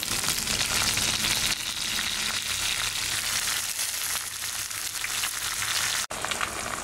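Gongura sorrel leaves frying with green chillies and curry leaves in hot oil for a chicken curry, a steady, dense sizzle that holds loud and close throughout, with one brief dropout near the end.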